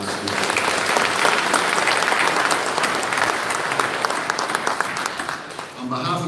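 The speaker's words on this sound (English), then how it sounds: "give a round of applause to the band and all our speakers" Audience clapping for the band and speakers at the opening ceremony of a wallball handball championship, a loud sustained round of applause from a sizable crowd that thins toward the end as a voice begins speaking.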